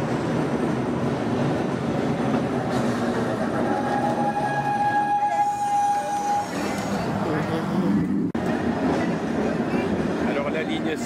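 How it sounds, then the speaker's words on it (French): St. Charles line streetcar in New Orleans rattles and rumbles steadily along the rails, with a brief high squeal partway through and people talking over the continuous clatter. "c'est une sorte de tramway qui fait un raffut de tous les dables"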